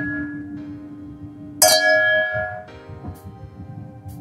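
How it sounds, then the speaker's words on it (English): A single loud gong-like bell strike rings out with a bright metallic attack and a long, shimmering sustain that slowly decays, followed by a softer second strike near the end, with low background rumble throughout. "That sounded like... it was like a gong."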